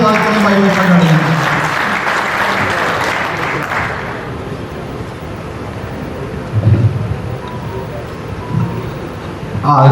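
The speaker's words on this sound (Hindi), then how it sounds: "एक बार जोरदार तालियों से स्वागत करें" A crowd at a poultry farming event applauds a cabinet minister with loud, full clapping under a speaker's amplified voice, which thins out and fades after a few seconds, leaving only scattered noise.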